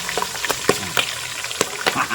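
Chili peppers fry in hot oil for a berry pickle, crackling and spluttering with sharp irregular pops over a steady sizzle, close and fairly loud.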